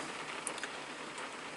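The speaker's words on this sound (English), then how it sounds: "It's absolutely bucketing outside, you can probably hear that." Heavy rain pours steadily outside, a dense, even wash of hiss with a few distinct drops standing out over the continuous downpour.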